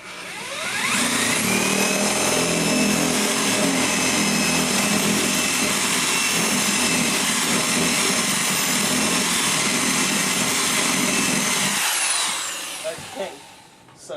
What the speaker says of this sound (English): make a hole bigger by angling a drill bit